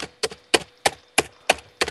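Rapid clicky taps from button mashing on a game controller during Minecraft play, arriving as seven sharp, evenly spaced bursts about every third of a second, close and fairly loud with no talk over them.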